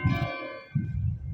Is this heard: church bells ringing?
yes